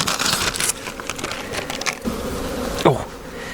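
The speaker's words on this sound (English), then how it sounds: "Oh, bees going up my legs." Honey bees hum and buzz up close in a dense swarm around a hive, with clicks and rustling handling noises mixed in.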